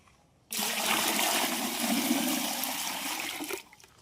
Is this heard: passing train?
no